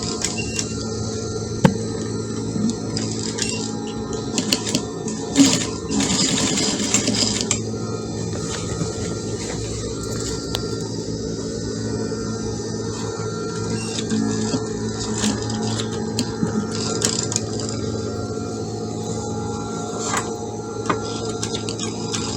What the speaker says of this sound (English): So I'm sewing it in between at the center.